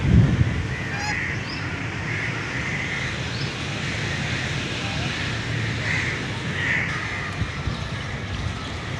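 Ducks honking and calling at a zoo enclosure with water in Karachi, repeated nasal honks at medium distance over steady outdoor background noise, with someone talking throughout.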